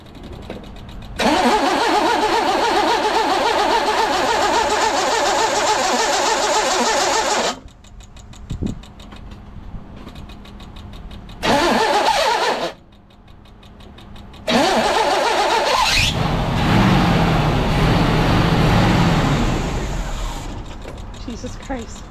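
Several bursts of a 1982 GMC S-15 pickup truck engine cranking and sputtering on a weak battery and poorly seated starter, with pauses between attempts and a rough idle near the end, close by.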